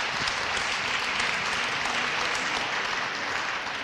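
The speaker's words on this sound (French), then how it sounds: "On l'applaudit s'il vous plaît." Audience applauding at a Purple Day epilepsy event in Nancy, a steady dense clapping that holds evenly throughout at moderate loudness.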